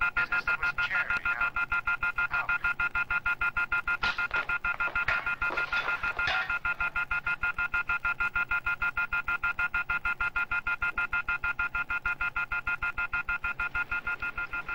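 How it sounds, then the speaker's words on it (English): Telephone line signal after one party hangs up, a loud rapid repeating pulse tone that beats steadily throughout, with faint indistinct sounds briefly mixed in early on. "the phone company has an automatic signal when one party to a call hangs up and the other does not"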